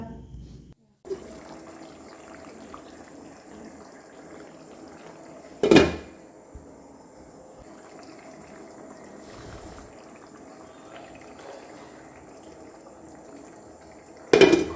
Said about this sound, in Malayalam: നമ്മുടെ കറി അവിടെ തിളച്ചുകൊണ്ടിരിക്കുകയാണ്